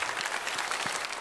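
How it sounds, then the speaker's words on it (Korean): A church congregation applauds at a Friday sign-language worship service, a steady wash of many hands clapping at moderate loudness for about a second. "다시 한번 감사의 박수 합시다"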